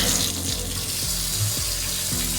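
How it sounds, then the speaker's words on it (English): Water gushes steadily from a hotel bathtub tap, a full, continuous rushing splash close by with no voices. "let's see how this water pressure is"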